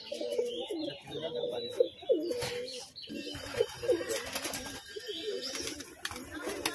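Cartoon pigeons perched on a tin roof give repeated soft, throaty coos in uneven bursts, fairly quiet and close, with faint background noise between calls.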